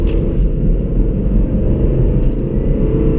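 A modified SRT-brand car's engine makes a loud, steady low rumble heard from inside the vehicle, a constant deep drone with no pauses.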